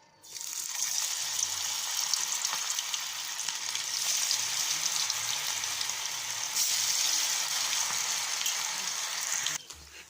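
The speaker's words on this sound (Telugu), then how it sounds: "ఇప్పుడు మనం కలిపి నానబెట్టుకున్న ఈ చికెన్ అయితే ఫ్రై చేసుకుందాం" Marinated chicken frying in hot oil in a pan, a loud, steady sizzle that starts abruptly and runs unbroken for about nine seconds before cutting off, with no one talking.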